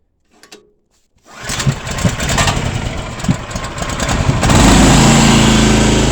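An old lawn roller's engine cranks with a brief rattle, then catches and runs loud and close, chugging steadily before rising to a higher, steadier roar.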